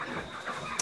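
Chickens cluck softly near an aluminium feeder in a yard, and their low, faint calls blend into steady background noise, with a brief higher squawk near the end.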